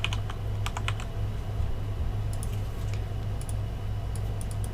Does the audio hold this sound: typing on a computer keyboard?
yes